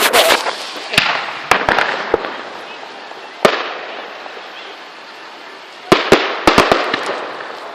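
New Year's fireworks for 2013 burst in sharp, loud cracks and pops, scattered singly and then in a rapid cluster, over a crackling wash of distant explosions and crowd noise.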